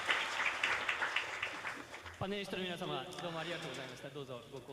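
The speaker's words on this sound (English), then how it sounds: "I would like to ask the audience to give a round of applause to all the panelists" A symposium audience applauds the panelists with a dense, steady wash of clapping, and a voice then talks over the tail of it.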